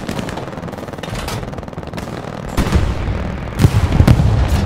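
Gunfire and explosions in the World War II shooter Hell Let Loose at Carentan during anti-tank combat: a dense, loud battle din with heavy booms and shots swelling toward the end.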